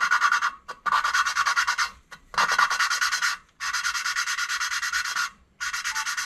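An engine valve seat on a B18 LSVTEC cylinder head is lapped with coarse compound, giving close, gritty rubbing strokes in several steady bursts separated by short pauses.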